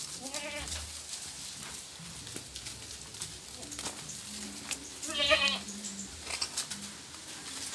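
Goats bleat a few times at moderate distance, separated by quiet pauses over a low outdoor background.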